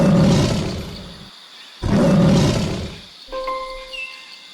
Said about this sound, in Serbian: Kakav zvuk lav proizvodi?